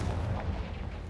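A booming blast from the Confringo explosion spell in Hogwarts Legacy, a dense, loud low rumble filling the whole moment.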